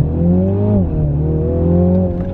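A 2020 Mini Clubman JCW with a BMW engine and four-wheel drive revs loud and close, its drone climbing, dipping briefly, then pulling upward again in a steady strain.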